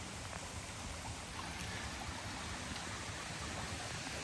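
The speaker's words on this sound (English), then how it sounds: "We've got this wood line flume. Comes from way up the creek. All the way down." Water rushing steadily down a long wooden flume fed from a creek at the Mingus Mill gristmill in the Smoky Mountains, a loud, continuous, close wash of flowing water with no voices.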